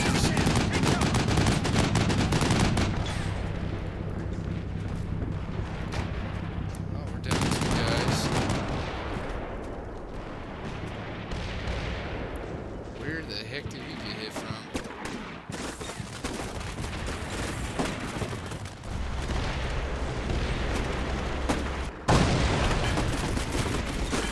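Sustained bursts of gunfire and machine-gun fire from the Cold War wargame Combat Mission Cold War, loud and dense, with heavy booms in a battlefield setting, continuing for the whole stretch with brief shifts in intensity.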